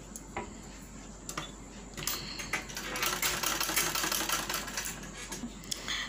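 A sewing machine stitches frock fabric, joining a cross piece at the armhole in a steady, fairly faint run of rapid mechanical ticking that speeds up toward the middle.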